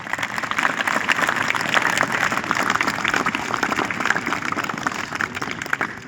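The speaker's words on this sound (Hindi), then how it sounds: "उन बच्चों के लिए आप जोरदार तालियां बजाएं।" Steady applause from a school audience after a children's program on Republic Day, many hands clapping continuously at a fairly close distance.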